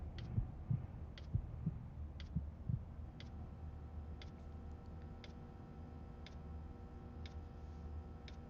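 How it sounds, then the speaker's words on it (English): Dupe's heartbeat thumping behind a door in Dandy's World, low muffled beats with a soft ticking pulse repeating at an even rhythm, faint and continuous. "listen for the heartbeat on the other side of the door"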